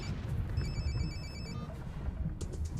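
A telephone rings in short electronic trills, moderately loud over a dense background murmur, with a brief burst of another ring pattern near the end and no speech.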